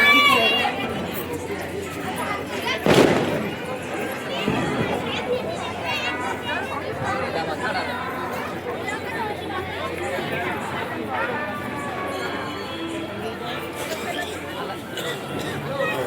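Crowd chatter fills the Shani Shingnapur temple grounds on Diwali, with many overlapping voices of pilgrims in a bustling, steady hubbub and a single sharp knock early on.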